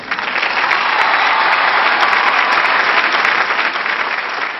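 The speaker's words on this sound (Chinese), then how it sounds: "让我们用掌声有请国色天香第二季策划人" Sustained audience applause at a televised Chinese opera-style variety show, a full hall clapping steadily and loudly throughout without pause, with no talk over it.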